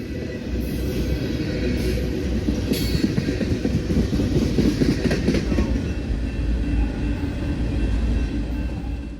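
Freight train M331 rolls past at close range with a cut of twin stack intermodal cars, a steady loud rumble with rhythmic clickety-clack of wheels over rail joints throughout.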